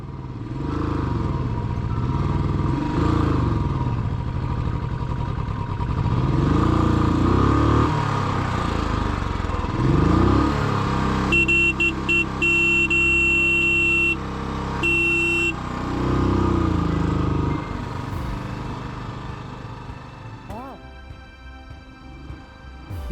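A 350cc motorcycle engine labors and revs unevenly, rising and dropping as it strains uphill and fails to climb, with brief clattering and a whining tone partway through.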